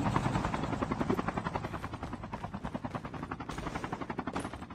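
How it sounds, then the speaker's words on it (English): Steady rotor chopping from a helicopter in a video game shooter match, a close, rhythmic thudding that continues evenly for several seconds and dips slightly near the end. "I got a helicopter."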